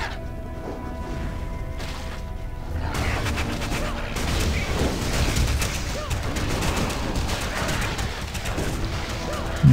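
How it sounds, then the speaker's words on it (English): Rapid, dense bursts of explosions and impact blasts in the action role-playing video game Torchlight II, a continuous loud barrage that thickens after the first few seconds, with no talk over it. "Look at all the explosions!"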